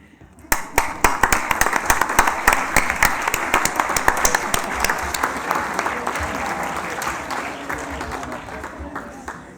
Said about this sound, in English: We know we had a lot of rounds of applause